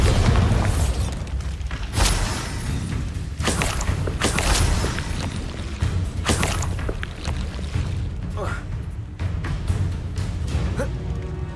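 Repeated Bombarda explosion spells go off in a Hogwarts Legacy battle, a series of loud booming blasts spaced a second or two apart over continuous rumbling game noise, with little talk.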